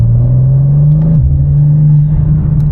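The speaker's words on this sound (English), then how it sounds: "This exhaust sounds great" A loud, deep exhaust on a BMW G87 M2 CSL with an AWE exhaust and Evolution Raceworks cross pipe, idling with a steady low rumble and a slight dip and rise in revs, close by.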